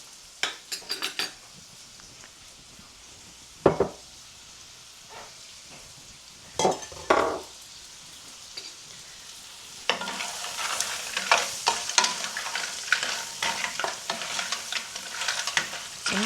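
Lobster shells are stirred around a hot pan, with scattered scraping clinks of a utensil against metal and bursts of sizzle that build into a busier, continuous frying crackle in the latter half, close and without talk.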